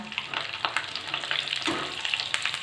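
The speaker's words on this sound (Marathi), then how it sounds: "तेल छान गरम झाले आता आपण ही बाजरीची पापडी तळून घेऊया" Bajra millet papad, dried crisp for two days, frying in hot oil, a steady close-up sizzle with scattered bubbling pops and crackles, no voices.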